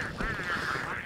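Pengulls in the video game Don't Starve give a short, harsh, duck-like squawk, loud and close, with no talk over it.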